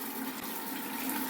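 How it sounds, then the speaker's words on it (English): Water running from a shower, a steady soft hiss of flowing water, fairly quiet and continuous with no talking. "I'm gonna be using water from the shower to wash my clothes"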